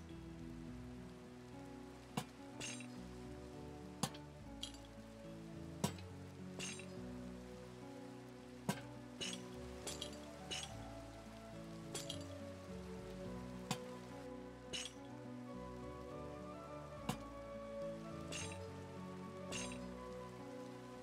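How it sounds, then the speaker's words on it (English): Steady Minecraft rain patters continuously, with soft game music tones and occasional sharp clicking placement sounds at irregular intervals, no talking. "it's raining now, which means it got pretty dark"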